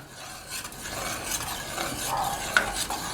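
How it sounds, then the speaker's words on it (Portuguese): A spoon stirs a mix of flour and water in a pan, a steady close-up scraping and swirling with a small clink near the end, heard alone with no talk. "Agora a gente precisa de uma colher para a gente mexer."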